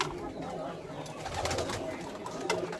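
Pigeons from a record-holding loft cooing, a soft murmuring coo heard continuously under a noisy, busy background, fairly close and steady in level.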